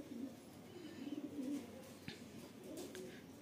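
Rampuri pigeons in Latur give a series of low, throaty coos, three or four rolling bursts spread across a few seconds, close and fairly quiet, with a faint sharp tap midway.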